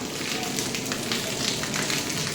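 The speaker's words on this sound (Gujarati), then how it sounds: "વરસાદ ચાલુ થઈ ગયો છે" Rain falling outdoors at night, a dense continuous broadband patter and hiss, fairly loud and even, with someone talking over it.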